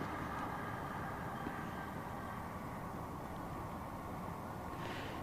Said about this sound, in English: oh, another train goes by.